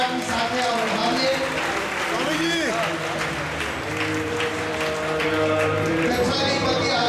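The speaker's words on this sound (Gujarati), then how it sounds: "આપણે સૌ એકવાર ફરી જોરદાર તાળીઓના ગડગડાટની સાથે આ વધાવીએ" A crowd at a religious ceremony honouring newly appointed Jain acharyas bursts into sustained applause, dense clapping filling the room while a voice keeps talking over it throughout.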